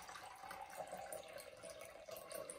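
Room-temperature tap water running into a pot, a steady faint hiss and splash that continues evenly without pause.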